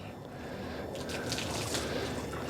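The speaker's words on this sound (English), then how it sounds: "we're gonna fill her up now with just clean water" Clean hot water pours into a 7.3 Powerstroke air-to-air intercooler, a steady close gurgling, trickling fill that runs without a break and grows a little busier partway through.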